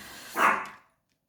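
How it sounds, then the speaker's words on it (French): A pet dog gives a single short bark partway through, close and fairly loud, fading quickly to silence with no speech around it. "Je suis désolée pour ma chienne."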